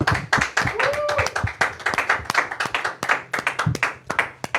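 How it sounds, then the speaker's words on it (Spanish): A small audience at a Catholic faith talk gives a short round of clapping, individual claps distinct and irregular, with voices and a brief tone audible underneath. "Despedimos a Yareni con un fuerte aplauso."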